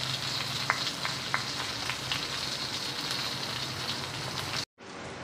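Pork for batsoy sizzling in its own rendered fat in a pan, a steady dense crackle and hiss with a few sharp pops, close and continuous, briefly cutting out near the end.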